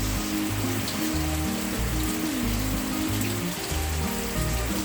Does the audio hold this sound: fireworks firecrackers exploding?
no